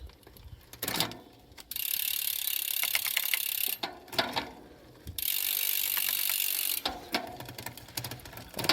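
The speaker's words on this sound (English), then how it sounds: "So we'll change gear." Bicycle gears being shifted on a bike, with bursts of rapid ratcheting freewheel clicking separated by short pauses and a few mechanical clunks as the chain moves across the rear cogs.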